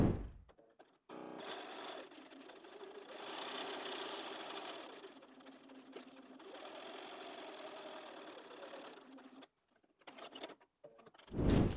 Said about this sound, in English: So I've done the sewing, Julie, from there to there.